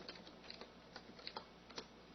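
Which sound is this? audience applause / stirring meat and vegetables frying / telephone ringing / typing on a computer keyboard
typing on a computer keyboard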